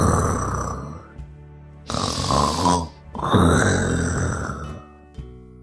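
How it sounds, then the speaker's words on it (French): Loud, drawn-out snoring in a children's story about a giant and a mouse: two long rasping breaths separated by pauses, backed by soft music. "Le géant entend un ronflement."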